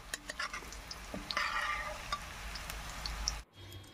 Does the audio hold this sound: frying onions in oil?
yes